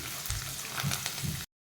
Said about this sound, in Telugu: ఇలా పోపు గింజలు వేసుకున్నాక కొద్దిగా ఇంగువ, కొన్ని వెల్లుల్లి, ఇలా పోపు బాగా కలుపుకోవాలి.